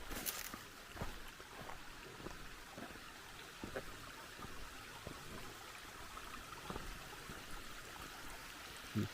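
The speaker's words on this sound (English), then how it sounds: "This is the top of the waterfall." Water rushes steadily over rock at the top of Mary Steele Falls, a continuous broad wash of stream noise heard nearby and alone, with a few faint knocks or footsteps on the trail.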